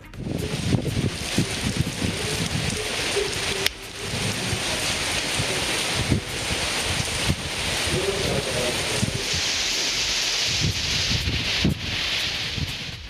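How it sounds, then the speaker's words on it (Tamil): Heavy rain lashing down with strong cyclonic wind gusts in a Tamil Nadu town, a dense continuous roar of rainfall with buffeting wind noise and brief dropouts. "சூறாவளி காற்றுடன் கனமழை பெய்தது"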